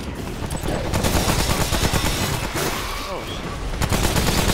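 Rapid gunfire from the video game Remnant: From the Ashes rattles in near-continuous loud bursts, with a brief exclamation from a player in between.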